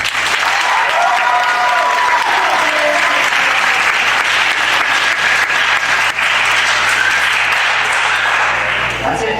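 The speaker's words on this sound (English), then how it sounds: "So everybody give him a round of applause." Sustained applause from a school music department concert audience, dense and steady for the whole stretch, with cheering and whoops rising over the clapping.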